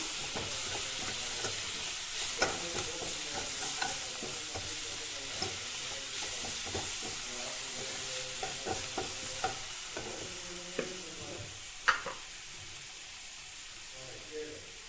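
Vallarai keerai (pennywort greens) sautéing in a pan for chapati dough, a steady soft sizzle throughout with occasional stirring clicks and scrapes, close and moderately loud.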